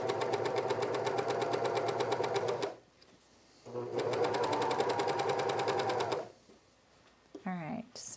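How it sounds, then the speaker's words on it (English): Cover stitch sewing machine running on a garment turned inside out to stitch small circles, two long bursts of fast steady mechanical stitching separated by a pause, ending with a brief voice. "if you don't have a free arm on your cover stitch, this is how you can do these little tiny circles like this"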